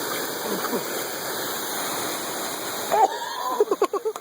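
Steady rushing roar of a waterfall on Mount Rainier fills the scene, with a voice and a few short vocal sounds breaking in near the end.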